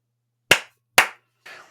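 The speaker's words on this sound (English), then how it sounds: "Let me clap." Two sharp, close hand claps half a second apart, followed by a softer, more diffuse third burst, made as a sync marker before a recording starts.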